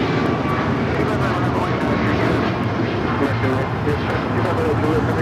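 Alaska Airlines Boeing 737 MAX 9 taking off from LAX for Guadalajara, a steady broadband jet roar filling the whole stretch at constant loudness, with people talking faintly beneath it.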